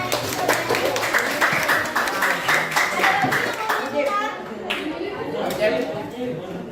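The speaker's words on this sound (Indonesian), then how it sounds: "beri aplaus untuk semuanya" Classroom applause, a dense patter of many hands clapping close by for several seconds, mixed with children's chatter, then tapering into scattered claps.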